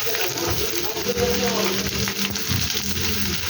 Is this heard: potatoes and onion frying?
yes